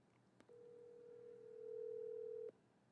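A telephone dial tone hums steadily for about two seconds at low volume, then cuts off abruptly, with a faint click just before it starts.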